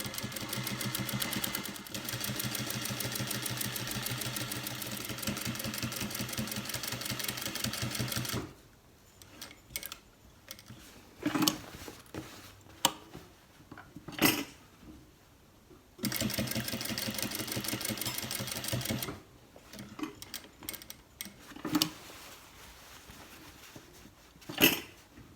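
A sewing machine edge-stitches a basted waistband onto cargo pants, running in two long steady bursts with quieter stretches of clicks and handling noises between them, close up and without speech.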